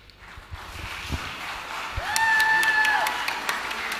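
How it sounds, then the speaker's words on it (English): Students applauding at a secondary school graduation ceremony in St. Lucia, a swelling patter of clapping with scattered shouts, and a whistle-like tone cutting through midway. "A round of applause, students."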